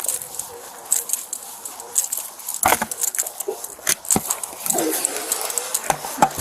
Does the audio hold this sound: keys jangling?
yes